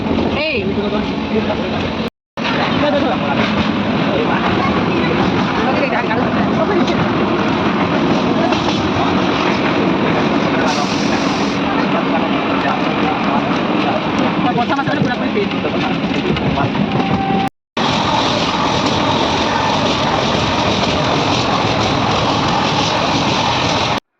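Steady rumble and rattle heard from inside a moving train, a loud continuous roar with faint clickety-clack over the rails, interrupted by two brief dropouts.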